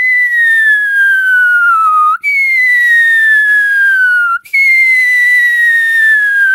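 A voice imitates the whistle of falling bombs, processed in Audacity: three loud, clean descending whistles, each sliding steadily downward for about two seconds, separated by brief clicks.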